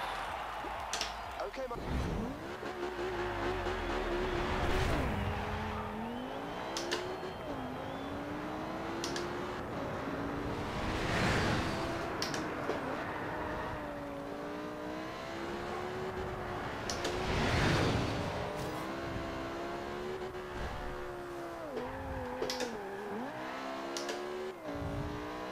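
A Lamborghini Huracan engine revs and accelerates through gear changes while racing on a twisty track in Forza Horizon 2, sustained and prominent, with repeated rising and falling pitch sweeps and a voice talking over it.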